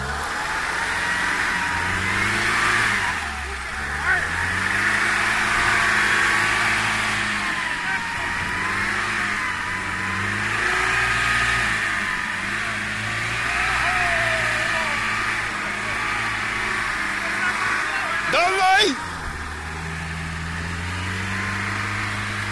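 A car engine revs hard and climbs in pitch as it accelerates, surging loudly and close by, while people shout excitedly over it, with a sharp swell near the end.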